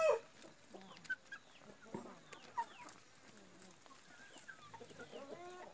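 Five roosters clucking softly at close range while feed is put out, scattered short calls in an irregular rhythm with no talk over them.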